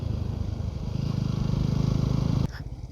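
A TVS Apache 200 4V motorcycle rides along with a steady, throbbing engine drone under rushing wind, holding a constant pace before the engine note drops off sharply near the end.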